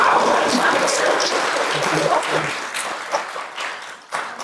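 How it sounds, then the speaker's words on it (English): Applause from a business forum audience for a panel on US–Türkiye trade relations, dense clapping filling the room and gradually thinning out, with some murmured voices underneath. "Round of applause for our great panel."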